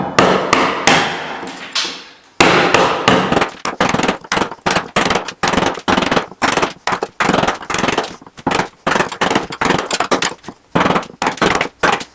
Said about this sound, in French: tous les coups que je mets dans la cale, c'est pas dans mon établi que je les mets